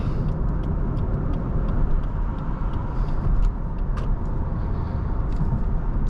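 A 2022 Lexus ES300h hybrid sedan accelerates with a steady, loud hum of engine and road noise heard from inside the cabin. The sound stays even throughout, with no talking.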